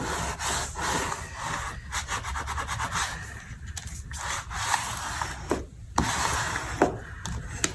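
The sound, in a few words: folding and burnishing paper gift bag flaps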